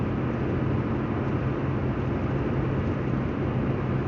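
Steady, loud low-frequency drone of a car on the road, its exhaust rumbling as the driver steps on the gas, a continuous engine and road roar with no talk.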